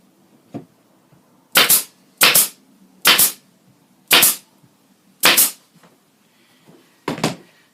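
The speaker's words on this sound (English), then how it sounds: "I'm going to staple in between, keeping my 1/2 inch" A staple gun drives staples through welting onto a fabric valance, six sharp snapping clacks spaced about a second apart, loud and close, with a softer tap before the first.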